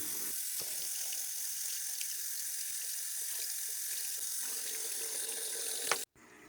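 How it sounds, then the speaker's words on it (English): Tap water runs steadily into a sink while soap is rinsed from makeup brush bristles, a close, even splashing hiss with faint dabbing variations, cut off abruptly near the end. "Now I'm going to rinse off the bristles and try to get as much soap out as possible."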